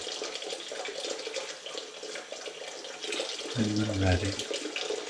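Tap water pours steadily into a kitchen sink during dishwashing, a continuous hiss running the whole time, with a brief low hum near the end and a voice speaking softly over it.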